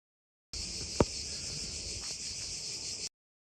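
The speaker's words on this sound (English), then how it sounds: "I love the sound of these bugs." Cicadas or similar insects drone in a steady, high, continuous buzz at the Acropolis in Athens, Greece, with one brief sharp click near the start.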